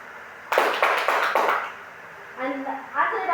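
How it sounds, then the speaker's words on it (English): A small classroom group claps for a student in a short burst of a few sharp, loud claps, followed by nearby voices talking. "Let's give a"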